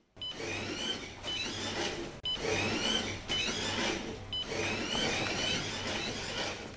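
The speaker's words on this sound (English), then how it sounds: "Cable jacket wear can be measured and induced while running the cable jacket over the cable flex tester spools." A cable flex tester runs cable jacket over its spools with a steady mechanical whirring and rasping, repeating in cycles of roughly one to two seconds, close and continuous with a low hum underneath.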